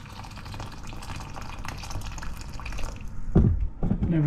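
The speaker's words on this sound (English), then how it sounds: "Kettle of boiling water. Pan on the stove. Boiling water." Boiling water poured from a kettle into a pan on the stove, a steady liquid fill near the mic ending in a few louder splashes and drips.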